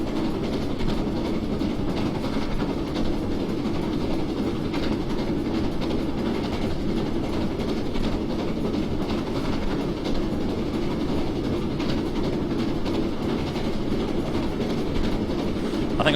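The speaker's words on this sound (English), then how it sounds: "this is a Great Western Railway Castle class." A Great Western Railway Castle class steam locomotive runs along the Riviera line in the 1950s in Train Simulator, with a steady, loud rolling rumble of wheels and rail joints that continues unbroken and carries no speech.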